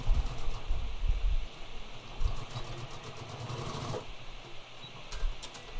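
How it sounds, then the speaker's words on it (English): Sewing machine running a straight stitch to attach a doubled drawstring to floral linen fabric, a steady close mechanical whir with a brief pause near the end, no talking. "So I'm going to stitch it to this fabric. So I'm just going to straight stitch it right now."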